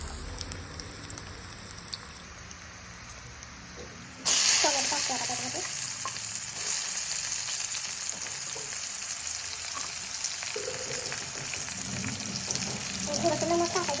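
Garlic, ginger and coriander frying in a pan for paneer curry, a steady close sizzle that jumps louder partway through and carries on with faint stirring clinks.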